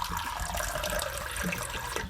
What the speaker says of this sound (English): So I'm gonna get some purified water here.